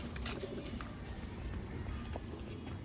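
Domestic pigeons of the Professor Imtiaz breed from Sialkot, kept by fanciers, coo softly amid a steady low rumble of loft background noise, with faint scuffling and no clear talk.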